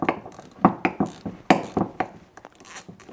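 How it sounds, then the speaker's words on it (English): A ratchet wrench breaks free the small bolts holding the starter solenoid on a Yanmar engine starter, giving a series of close, sharp clicking bursts in quick irregular strokes. "we have a couple smaller bolts that hold the solenoid in place. I will also break those free"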